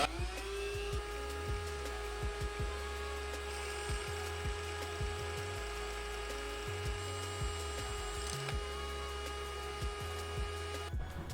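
A drill runs steadily and close while a hole is bored during an oil catch can install, a constant high whine with a low rumbling grind beneath and brief clicks, stopping at the end.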